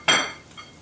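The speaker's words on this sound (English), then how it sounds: "And we're going to now add our celery" Chopped celery is dropped into a bowl of vegan no-egg salad, making a single sharp clink of utensil against the dish that rings briefly and then fades. A faint softer tap follows.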